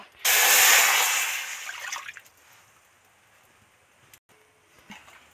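Water pours into a kadai in one loud, close gush lasting about two seconds, then trails off into faint trickles and small clinks in a quiet kitchen.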